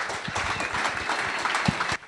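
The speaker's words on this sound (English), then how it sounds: "So we'll give them a round of applause, and then we'll give them another one later" An audience at a music workshop in Langa, Cape Town, applauds a band with moderate, crowd clapping, individual claps standing out close by before it thins abruptly at the end.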